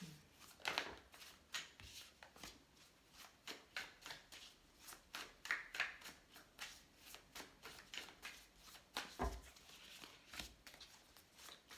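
Tarot cards are shuffled repeatedly close up, with quick riffling and soft slapping bursts in an irregular rhythm, quiet and with no talking.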